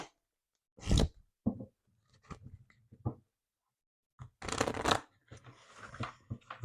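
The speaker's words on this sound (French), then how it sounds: "on va prendre une carte pour le masculin sacré et une carte pour le féminin" Oracle cards being shuffled in a few short, crisp bursts of riffling and sliding separated by quiet pauses, close and fairly soft, with no talking.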